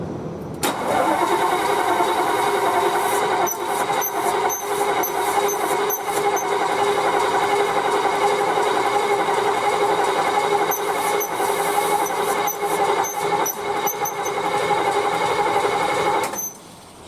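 A 1954 Chrysler New York's Hemi 331 V8 cranks on the starter for about fifteen seconds without firing, a steady rhythmic whirring churn that cuts off abruptly at the end.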